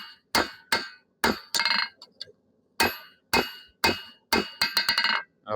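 A hammer forges a chef knife's steel on a cold anvil, striking hard ringing blows close by: about a dozen in uneven bursts, some single and some in quick runs, with brief pauses between.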